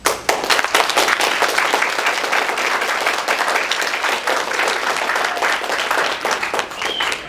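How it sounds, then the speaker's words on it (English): A crowd applauds steadily at a student game development showcase, dense clapping that stays loud throughout before tapering slightly at the end. "I think that deserves a round of applause"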